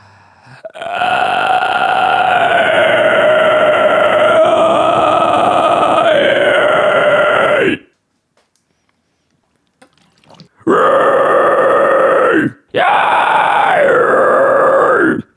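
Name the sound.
guttural scream vocal technique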